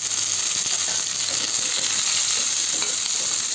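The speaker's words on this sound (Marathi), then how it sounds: "छान परतून घेऊया" Appe fried into small balls are sautéed with mustard seeds and coriander in hot oil in a kadhai, giving a continuous, close sizzle with faint scraping of a spatula throughout.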